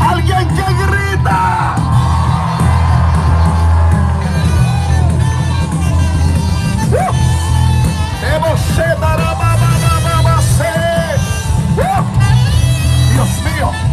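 A Spanish-speaking church congregation shouts and yells loudly and continuously during a pastor's sermon, a dense wall of voices that rises and falls with individual cries breaking through.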